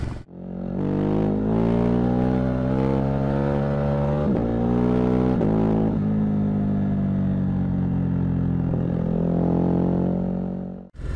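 A Ducati Hypermotard 950 SP with its 936cc twin engine, ridden on a wet, slippery road, produces a steady loud engine drone with rising and falling revs and gear changes, up close and continuous throughout.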